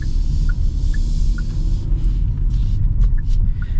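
The 2.5-litre turbocharged engine of a 2025 Genesis GV70 hums as the SUV accelerates, a steady low rumble heard from inside the cabin, with faint intermittent chimes and clicks on top.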